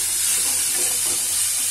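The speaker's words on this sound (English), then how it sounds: "just a quick saute." Momo filling sautéed briefly in a pan over a gas flame, a loud, steady, close hiss of sizzling with faint stirring scrapes underneath.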